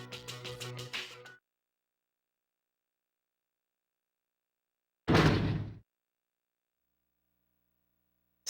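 A school door in the Persona 3 video game is unlocked and swung open: a short burst of musical clatter, then silence, then a single solid thud-and-creak of the door, with a faint hit at the very end.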